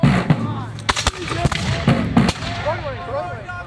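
Musket volley at a Battle of Great Bridge 250th anniversary re-enactment: several sharp, loud cracks of black-powder muskets fire in quick ragged succession, with shouted commands and crowd voices around them.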